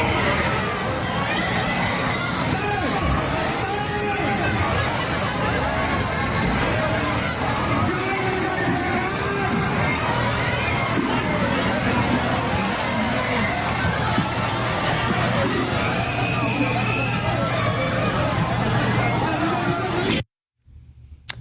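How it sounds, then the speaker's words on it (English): A large crowd packed in front of the gates of a vaccination site in Indonesia makes a dense, steady roar of voices and shouting that continues unbroken throughout, then cuts off at the very end. "a giant crowd gathered right in front of the building"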